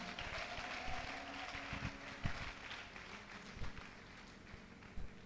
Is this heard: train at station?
no